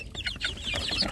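Free-range village chicks cluck in short, quick bursts while feeding on rice and mash, a steady chorus of close, busy peeps and clucks with no talking.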